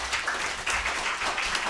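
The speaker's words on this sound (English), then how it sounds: "can we get a round of applause for everybody" An audience applauds at the close of a community event about care workers, a continuous broad patter of clapping from a crowd of moderate size, fairly loud and even.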